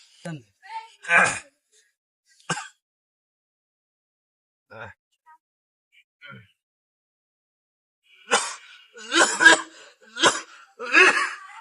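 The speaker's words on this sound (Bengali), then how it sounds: "আপনার কাশিটা কতদিন ধরে আছে?" Several harsh coughs burst out in short clusters, a pair early on and a louder run near the end, with quiet gaps and faint voice sounds between.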